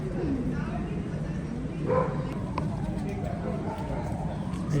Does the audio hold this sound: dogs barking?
yes